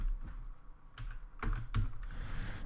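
Keys clatter on a wonky computer keyboard during C++ DirectX game programming, with a few louder clustered strokes over steady room noise and no talking.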